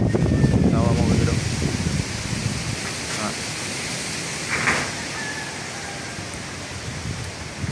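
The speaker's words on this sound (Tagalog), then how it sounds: "Kusog ang hangin mga brother." Strong wind blowing outdoors in Carcar City, Cebu, a loud, broad, continuous roar with gusts rising and falling, up close to the microphone, with a voice speaking over it early on.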